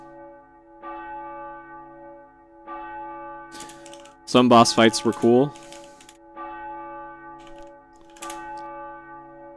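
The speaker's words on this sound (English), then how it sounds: "Is this song just bells tolling?" Tolling bells ring out as the melody of Tenchu 2 video game music, sustained bright tones that decay slowly and repeat at a steady pace, while someone speaks over the middle of it.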